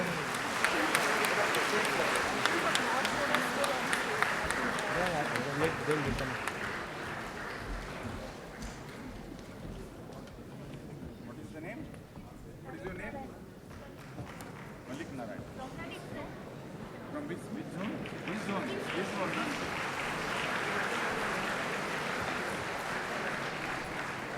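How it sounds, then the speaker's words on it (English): Audience applauding children at a science camp valedictory function, a long steady wash of clapping that thins in the middle and swells again toward the end. "Please don't stop applauding the children."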